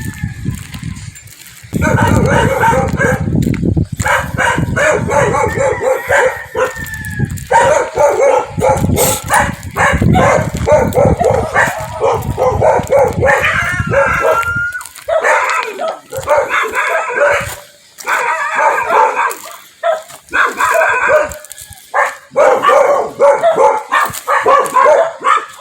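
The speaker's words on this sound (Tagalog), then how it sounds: "May aso na naman." Several dogs bark repeatedly and loudly along an outdoor walk, overlapping barks near and farther off, with a rooster crowing and farm animals in the background.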